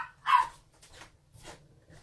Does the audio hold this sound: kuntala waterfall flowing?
no